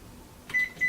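A kitchen microwave oven heating porridge oats gives two short electronic beeps close by after a soft click, with no talking.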